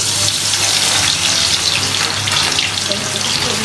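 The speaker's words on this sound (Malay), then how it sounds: "Okey, minyak kita dah panas. Kita dah boleh menggoreng." Steady, dense sizzling and crackling of food frying in hot oil for oxtail soup, loud and close, continuing without pause and with no voices.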